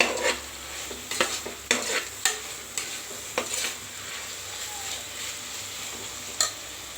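Mint and coriander fried in a pan with a steady sizzle, a spoon or spatula stirring and scraping against the metal in irregular clicks and clanks, close and alone.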